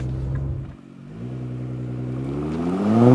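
A 2017 Nissan GT-R R35 with a Y-pipe fitted rumbles, dips briefly, then revs up with a rising, smooth engine note that grows louder toward the end, heard up close.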